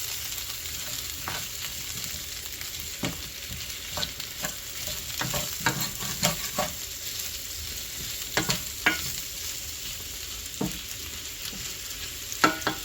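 Sausage, potato and cabbage sizzle steadily in a cast iron skillet, with a utensil scraping and stirring in repeated clicks and scrapes across the pan, close and moderately loud, no talking.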